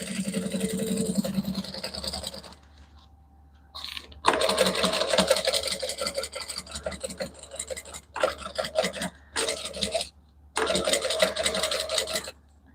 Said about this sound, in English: Sometimes it's just as easy to re-sew the whole thing to get all your missed bits.